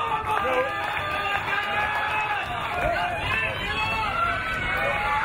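Wrestling fans at a British show cheer and shout for a wrestler, steady crowd noise with whoops and calls on top, while a commentator talks over it.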